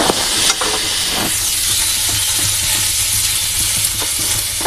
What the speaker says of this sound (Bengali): হলুদ দিয়ে দিচ্ছি, নাড়াচাড়া করছি